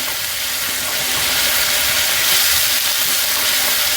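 Eggs frying in hot oil for Mughlai egg curry give a loud, steady hiss that holds without a break for a few seconds, with no talking over it.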